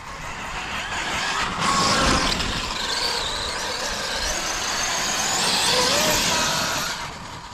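Electric motor of a highly upgraded Arrma K8 RC car running, a steady, fairly loud broadband whir and hiss that swells and eases over several seconds, with no talking.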